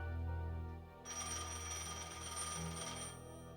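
A telephone rings in a home with an anonymous caller on the line, a faint, steady, tonal ring over low background hum, with no voices.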